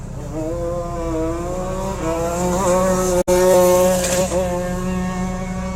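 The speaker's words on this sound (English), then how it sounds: "There's a shifter cart out on the track now." A shifter kart engine screams steadily on an autocross track, a high buzzing whine holding its pitch and rising in bursts as it revs, loud and continuous with a brief dropout midway.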